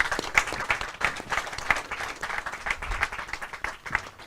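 Applause from a press conference audience after a presentation, sustained clapping that swells and dips with sharp individual claps standing out, moderately loud and without talk.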